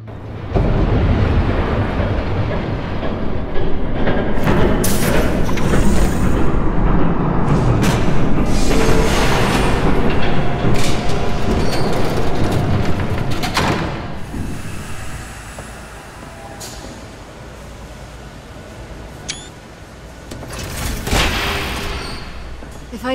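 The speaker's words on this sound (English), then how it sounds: "There's a train coming!" In the video game Batman The Telltale Series, a train rushes past with a heavy rumbling roar and clattering bursts, loud at first then fading into a lower rumble before swelling again.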